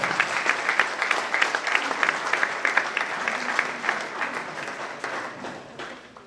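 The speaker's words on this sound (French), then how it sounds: "Merci d'applaudir" An audience at a table tennis match applauds a player as he is introduced; close, steady clapping from a crowd continues and gradually fades near the end.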